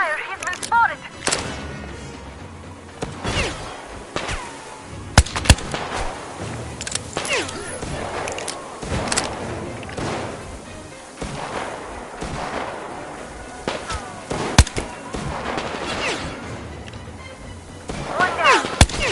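Repeated gunfire and artillery-like bursts in a tunnel-set shooter video game, irregular loud cracks and booms scattered throughout, with voices talking over the combat.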